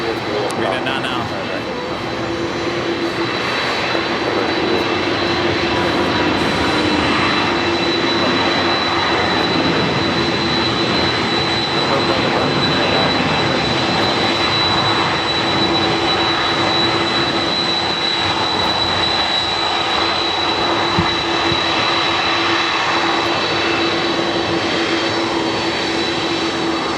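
A Singapore Airlines Boeing 747 Megatop at LAX produces a continuous engine rumble laced with high steady whines, unbroken for the whole stretch, with talk occasionally audible underneath.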